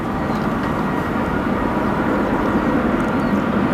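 Atlas Air cargo plane arriving at Chicago O'Hare from Anchorage, giving a continuous broad engine roar that stays steady and fairly loud for several seconds, with no voices.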